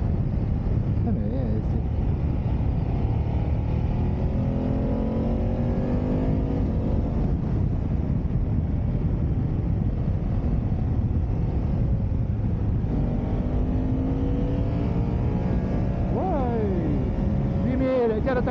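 A 2019 BMW 750 GS motorcycle being ridden, its engine droning steadily and rising in pitch as it revs up toward the end, heard from the rider's position under constant wind roar, with a rider talking throughout.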